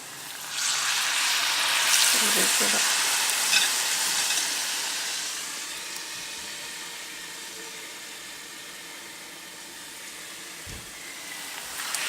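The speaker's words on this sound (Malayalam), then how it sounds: "നമുക്കിനി പഴംപൊരി വറുത്ത് എടുക്കാം" Oil sizzles and hisses as ripe banana fritters in wheat-flour batter deep-fry, the bubbling strongest at first and then settling to a steady fainter crackle.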